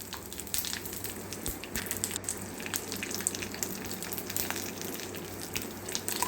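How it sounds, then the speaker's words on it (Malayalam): Garlic and shallots frying in coconut oil with mustard seeds, fenugreek, red chillies and curry leaves, giving a steady, fairly quiet sizzle with light crackles and pops throughout, heard alone. "ഇതിട്ടൊന്ന് ഇളക്കി മൂക്കട്ടെ കേട്ടോ"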